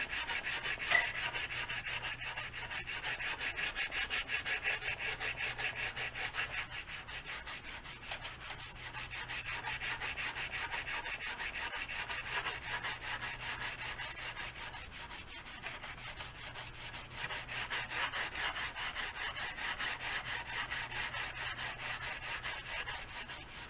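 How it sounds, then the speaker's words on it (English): Sandpaper rubbing steadily over the underside of a model aircraft wing for the Sweepette 28/30 build, a continuous rhythmic scratchy back-and-forth rasp, close and fairly quiet, with no talk. "with sandpaper, I'm going to sand the underside of this wing"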